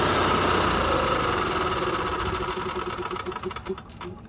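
A petrol generator engine runs rough after carburetor elevation adjustments, with a steady buzzing drone that starts loud and grows uneven, breaking into irregular pulsing stutters toward the end.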